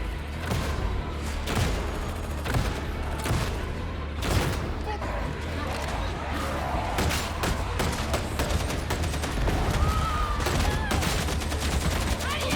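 Dense, continuous gunfire from a machine gun in the video game Warhammer: Darktide, rapid bursts with booming impacts layered throughout, loud and steady with game noise and some speech mixed in.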